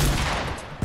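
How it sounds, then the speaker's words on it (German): Gunfire in the video game Fortnite: a short, loud burst of shots that fades quickly, with another sharp report right at the end. "Er schießt mich ab!"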